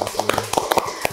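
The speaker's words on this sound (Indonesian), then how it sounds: "Kita tepuk tangan dulu dong buat narasumber kita" A short burst of scattered handclaps for a podcast guest, a few sharp claps over a low voice and room murmur.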